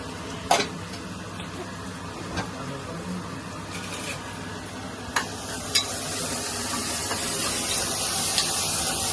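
Sliced onions sizzle steadily in a pan for mutton curry, with a few sharp clinks of stirring against the pan over the continuous frying hiss.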